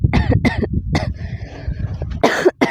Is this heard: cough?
yes